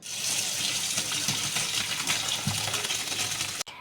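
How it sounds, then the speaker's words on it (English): Water from boiled pasta pours in a steady, loud rush through a strainer for a few seconds, with light metallic clinks before it cuts off. "Strain out the water."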